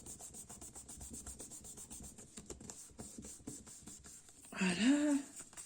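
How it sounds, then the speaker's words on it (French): Fingers rub and press a glued paper towel or toilet paper roll with soft, repeated scratchy strokes close by, then a brief louder squeak near the end. "Et on frotte, on appuie pour que ça colle bien."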